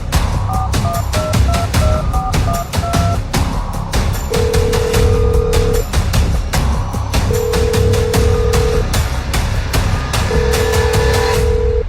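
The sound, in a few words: telephone ringing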